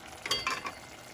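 Mushrooms stirred in a pan over high heat, a brief scraping and sizzling rustle in a few quick strokes, close and fairly soft, with no speech.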